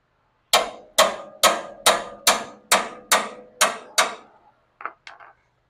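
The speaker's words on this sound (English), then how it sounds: "we're turning the nut, but we're trying to shear off what's left of that cotter pin" A wrench turns the ball joint nut on a Dodge D100 while shearing off a leftover cotter pin, giving nine evenly spaced, sharp metallic clacks followed by two softer, quicker ones, with no talk.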